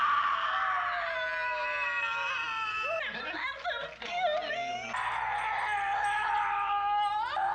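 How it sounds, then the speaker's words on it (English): A woman screams in The Texas Chain Saw Massacre, long piercing shrieks that waver and break into sobbing wails midway, then resume at full intensity, loud and sustained. "she screams her lungs out to no avail"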